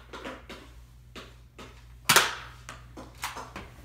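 One sharp, loud snap of a Nerf blaster firing at a target at close range, with softer clicks and knocks before and after it.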